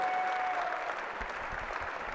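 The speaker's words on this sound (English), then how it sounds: "Please give all of these seniors a great round of applause for all of their contributions to Preston" A crowd in a high school gym applauds seniors at a boys varsity basketball game, a steady, fairly faint roar of clapping heard from a distance with a brief tonal whistle at the start.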